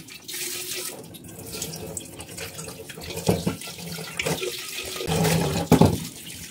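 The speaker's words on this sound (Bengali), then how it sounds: "তো আমি এখন আগে এটাকে মেজে নেবো একটু জলে ভিজিয়ে।" Running tap water splashes into a sink while an earthenware pot is scrubbed and soaked, with irregular clunks and swishes of handling, moderately close and steady.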